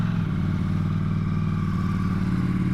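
A Ducati Streetfighter of 208 hp on its stock exhaust idles steadily on a cold morning during warm-up, with a deep, even throb that carries close and loud with no voices over it.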